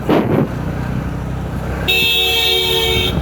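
A Mahindra Thar stuck in a stopped traffic queue sounds a steady, fairly loud horn over the low rumble of idling vehicles nearby.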